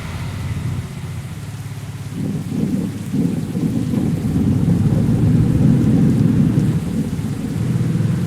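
Rain and rolling thunder in the Truck Simulator Indonesia mobile driving game, with a loud steady rain wash and low thunder rumbles swelling through the middle, heard alone without talk.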